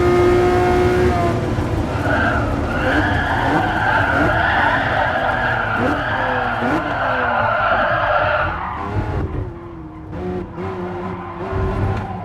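A Ferrari Enzo in Gran Turismo Sport skids after a missed braking point, with loud, sustained tire squeal and a wailing engine whose pitch rises and drops through several shifts before fading.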